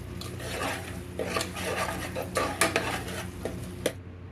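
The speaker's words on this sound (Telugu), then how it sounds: "ఒక స్పూన్ పసుపు, పసుపు కూడా మంచిగా కలపాలి." A spoon scrapes and clinks against a pot while turmeric is mixed into paneer pulao rice, giving a steady rasping stir with sharper metallic taps near the end, fairly close and without talk.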